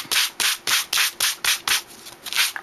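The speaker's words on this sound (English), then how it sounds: "This is the wood grain with the, the early espresso and just sand it." Hand sanding wood stained in early espresso, about nine close, even back-and-forth rasping strokes in a steady rhythm, with no talk.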